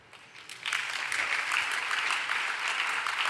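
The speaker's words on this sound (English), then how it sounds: "I would like to ask you to applaud our fantastic moderators" A room of seated participants at a brainstorming session breaks into applause for the moderators after a quiet moment, the clapping rising sharply and then staying full and steady.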